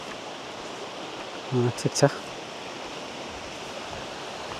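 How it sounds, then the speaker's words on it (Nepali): Small waterfall on a little stream, a steady broadband rush of falling water filling the scene while a voice briefly speaks midway. "सानो खोला भए पनि छहरा राम्रो सुन्दर लाग्यो"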